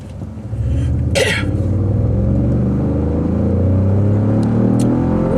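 A 2015 Ford F-150 truck with the 2.7L EcoBoost engine, towing a trailer, pulls away under power. A loud, steady engine drone and road rumble build and hold inside the cab, with a short cough near the start.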